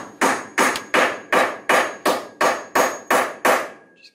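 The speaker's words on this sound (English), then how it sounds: "And we just grab a hammer." A hammer taps a carriage bolt into a steel beam while a stud wall is being attached, striking nine times in a steady, even rhythm. The blows are sharp and close, with no talk.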